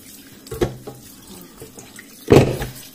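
Soup bones being washed under a running kitchen tap, with two short gushes of water splashing into a sink, the second louder, close by.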